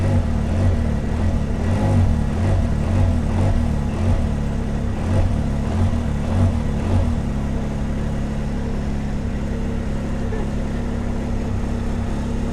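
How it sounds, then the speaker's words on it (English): A stationary Can-Am Ryker three-wheel motorcycle exhaust idles steadily with a low, throbbing rumble, close by and continuous with no talking. "The exhaust on it doesn't sound that amazing. But then again, it is standing still."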